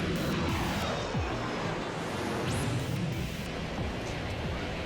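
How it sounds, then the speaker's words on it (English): Boeing 727 jet taking off down the runway and climbing, heard as a steady, loud broadband engine roar with rushing wind noise that fills the whole stretch without letup. "And that is a takeoff in a 727."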